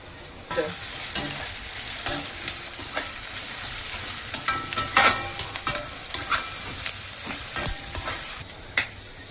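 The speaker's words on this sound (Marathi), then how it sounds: "तांबूस रंगावर परतून घेऊया कांदा" Onions and chilies sizzle in a hot pan while a utensil scrapes and stirs in irregular strokes, close and clear, with no talking.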